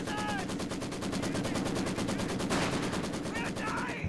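Maxim machine gun in Company of Heroes 2, rapid continuous automatic fire at an even rhythm, loud and sustained across the whole stretch with other battle noise behind it.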